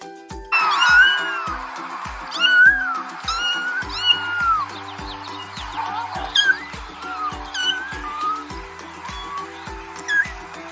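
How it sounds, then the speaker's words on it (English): A domestic cat meows repeatedly, with several clear, rising-and-falling cries in an irregular rhythm. Quiet music plays underneath. "cat,"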